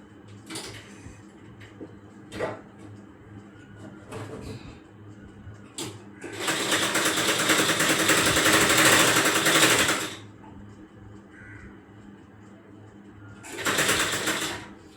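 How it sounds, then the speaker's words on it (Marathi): A sewing machine runs a straight seam on a five-year-old girl's frock, one loud steady burst of stitching lasting a few seconds, then a shorter burst near the end, with quieter handling sounds between. "आता मी पटकन जातो आणि पटकन शिलाई मारून येतो बघा"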